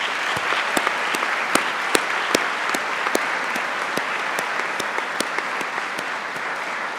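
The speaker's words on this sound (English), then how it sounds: "Graduates, please join me in a round of applause for all the Swinburne staff." Graduates at a Swinburne University graduation ceremony giving a round of applause for the staff; steady, moderately loud clapping from a large seated crowd, with a few sharper individual claps standing out near the front.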